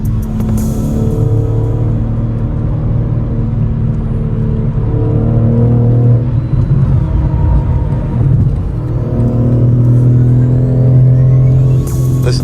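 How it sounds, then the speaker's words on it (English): BMW G82 M4 with an aftermarket exhaust, heard from inside the cabin while downshifting: a loud, continuous engine rumble that rises and falls with revs through several gear changes. "you can still hear the exhaust"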